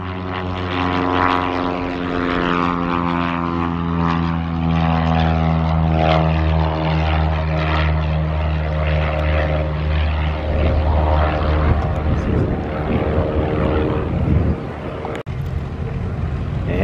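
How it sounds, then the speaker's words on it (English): A propeller plane engine roars steadily, loud and close, as the plane takes off at a small airfield in Minford, Ohio, its droning tone holding strong throughout with no other sounds on top. "we have another aircraft taking off"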